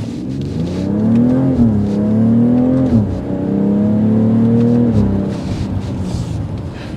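A 2024 BMW X3 M40i crossover accelerates hard from inside the cabin. The engine drone climbs in pitch, drops at a gear shift and climbs again, loud and steady with no talking.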